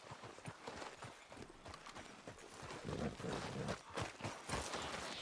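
Horse hooves clip-clop steadily on a trail in Red Dead Redemption 2, a brisk, even rhythm of hoofbeats close by with faint game ambience around them.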